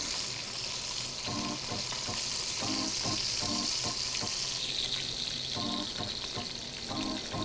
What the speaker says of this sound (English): now that we have our oxtail seared on all sides